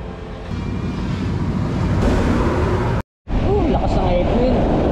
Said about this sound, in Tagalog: Lakas ng headwind.